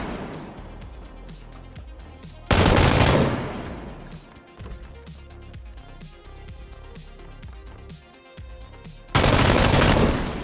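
An M249 light machine gun firing in PUBG, close and loud, with two dense bursts of rapid automatic fire separated by quieter stretches of scattered shots and game ambience.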